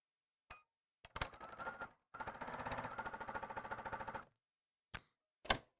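A sewing machine stitches fabric units in short bursts with a rapid rhythmic clatter, quiet overall, separated by pauses and a few isolated clicks.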